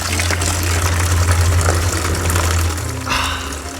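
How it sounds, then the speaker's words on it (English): Water rushes steadily from an outdoor garden tap just opened to relieve water pressure, a loud continuous hiss and splash with a low hum underneath, shifting slightly near the end. "Now we need to turn on the tap to relieve the water pressure."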